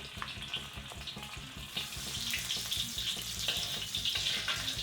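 Green chili, ginger and garlic sizzling in hot oil in a kadhai, a steady close crackling fry with bubbling spits that grows a little louder, no voices.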